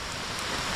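Rain falls steadily during a hike, giving a dense, even hiss of drops striking the ground and gear around the listener for a short moment, with no voices.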